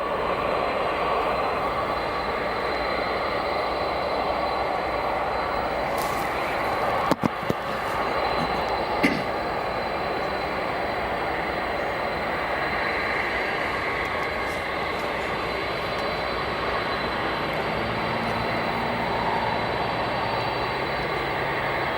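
Jet airliner engines roar at O'Hare airport, a loud continuous broadband rumble and whine from a nearby aircraft, with a few faint clicks.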